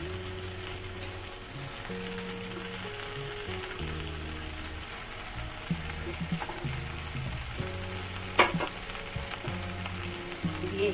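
Bottle gourd leaves fry in a pan with a steady, moderate sizzle throughout, broken by occasional scraping stirs and one sharp clink near the end.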